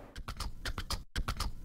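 A rhythmic percussion beat from the Incredibox game imitates a galloping horse, with rapid clip-clop hits in a steady triplet-like pattern, a brief silent gap near the middle, then the pattern resumes.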